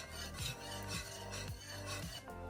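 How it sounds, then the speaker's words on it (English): A spoon scrapes and stirs a mix of alternative spaghetti ingredients in a bowl, making rhythmic rasping strokes about twice per second, close and clear with no talking. "I'm gonna use my spoon to mix this together"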